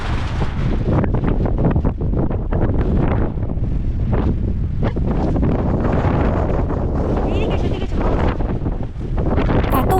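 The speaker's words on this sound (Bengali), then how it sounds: "এত হাওয়া হচ্ছে যে ওখানে দাঁড়ানো যাচ্ছে না" Strong wind at a Darjeeling mountain viewpoint facing the Himalayan peaks roars without a break and buffets the microphone loudly in rough gusts from start to finish.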